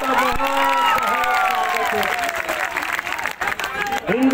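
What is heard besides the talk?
crowd clapping at a rally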